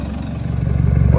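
A Toyota 1KD-FTV diesel engine idling through a big exhaust, a loud, close, steady low rumble with a pulsing clatter, growing slightly louder over a brief moment.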